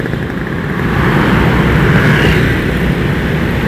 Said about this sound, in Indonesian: Aduh, mobil kencang banget ini.